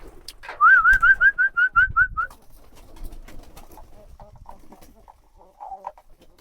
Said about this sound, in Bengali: সকালবেলা এসেছি কবুতর ফার্মে কবুতরগুলোকে খাওয়া দেওয়ার জন্য